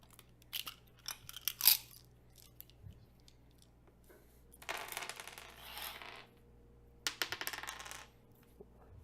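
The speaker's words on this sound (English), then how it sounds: "That's a lot of dice being rolled." A big handful of dice rattles and clatters across a tabletop during a Curse of Strahd tabletop role-playing session, with bursts of hard clicking and tumbling in several waves, close by, and no talk over it.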